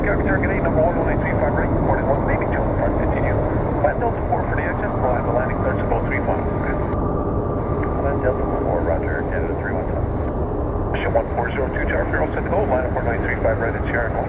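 Fixed-wing airliner landing at Calgary International Airport on a winter day, a steady continuous engine roar holding at moderate, even loudness throughout, with faint radio chatter from air traffic control mixed underneath.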